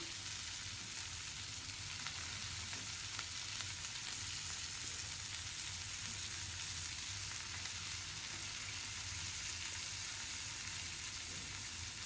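Onions fry in a pan with chili powder, turmeric and salt, giving a constant soft, even sizzle that holds steady throughout at low volume.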